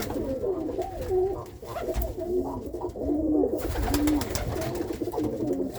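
An Irish old school tumbler pigeon cock coos at a hen, repeated rolling, throaty coos near at hand over a low background rumble and scattered scuffling in the loft.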